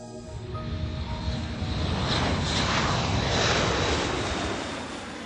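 A propeller aircraft roars loudly and steadily as it departs on a risk-rated flight, a broad engine drone that swells to a peak midway and then eases slightly, with no voices over it.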